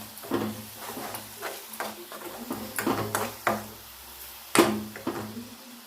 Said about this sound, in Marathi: तेलामध्ये चांगलं हलवून घेणार आहोत